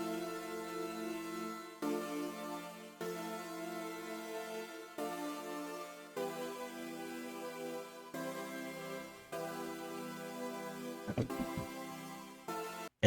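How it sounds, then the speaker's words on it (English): A second layered synth in a beat plays a sustained, harmonically rich tone in repeating chopped phrases of about two seconds each, steady and moderately quiet, with no voices. "So here's what the second synth sounds like."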